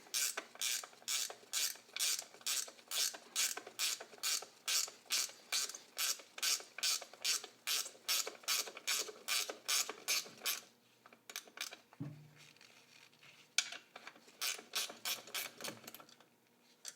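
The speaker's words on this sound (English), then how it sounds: "I guess I'm just going to take these bolts all the way out and see why it is not moving." A hand ratchet clicks steadily in an even rhythm while backing out exhaust manifold bolts on a Jeep, close and fairly quiet, with the pattern breaking into irregular clicks and clunks near the end.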